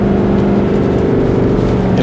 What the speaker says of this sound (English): when our engine brake's kicking in like that